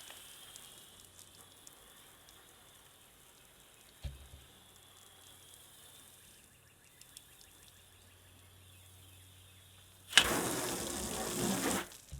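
Water sprays onto a freshly waxed car in a steady hissing gush near the end, following a long stretch of near silence with faint background hum and a single knock.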